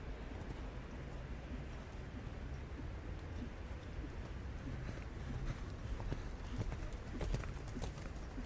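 A horse canters across a dressage arena at a junior eventing championship, producing soft, evenly rhythmic hoofbeats that stay faint and steady from start to finish.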